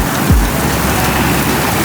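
Heavy rain pours steadily and loudly during a dark daytime storm, with a single low rumble of thunder near the start beneath the constant hiss of falling water.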